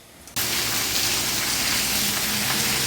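Steady heavy rain falling outdoors during monsoon weather, a dense continuous hiss that starts abruptly and stays loud and even, with no voices.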